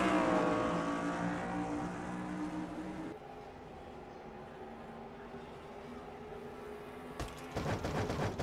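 Race car engines in a racing video game at Riverside, a field of cars getting the green flag, their engines droning steadily with layered harmonic whine, dropping midway and then a brief burst of roaring revs near the end.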